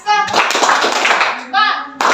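A classroom of children claps in a quick rhythmic burst of sharp, loud hand claps between short spoken cues from a teacher.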